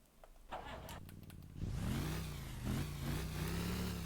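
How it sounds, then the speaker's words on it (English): An inline-two motorcycle engine in the Motor Town driving game starts up and revs, its steady droning hum rising and wavering in pitch as the throttle climbs, loud and close after a few brief clicks and knocks. "Okay, that's the one that's recognizable. That's my inline 2 engine."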